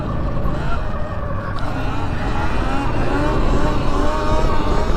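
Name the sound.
Sur Ron X electric dirt bike doing a wheelie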